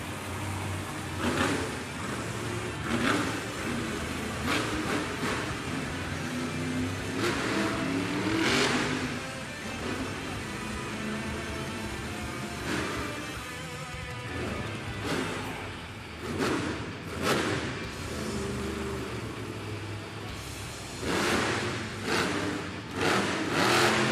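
The Dragon monster truck's engine roars and revs in an indoor arena at a Monster Jam event in North Charleston. Loud surges rise and fall repeatedly for over twenty seconds, with crowd noise underneath.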